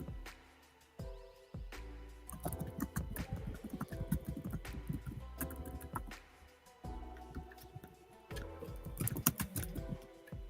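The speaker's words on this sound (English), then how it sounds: "your one is four finger typing right now" Rapid keystrokes from four-finger typing on a computer keyboard, irregular bursts of clicks and clacks with brief pauses, close and fairly loud, running alone without talk.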